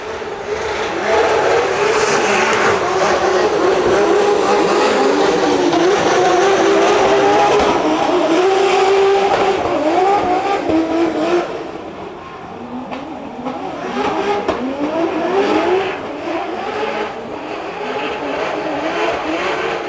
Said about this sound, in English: Some battle of V8s, both supercharged